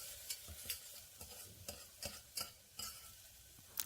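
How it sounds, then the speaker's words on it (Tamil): Soaked moong dal roasts in ghee in a pressure cooker, quiet frying under a run of sharp ladle scrapes and taps against the metal, about ten strokes evenly spaced. "நான் ஊற வச்சு எடுத்து வச்சுருக்கிற பாசிப்பருப்பை வாசனை வர வரைக்கும் வறுத்துக்க போகிறேன்"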